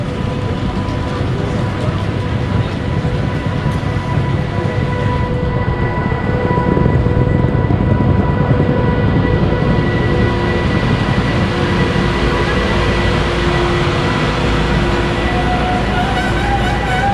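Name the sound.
train arriving at station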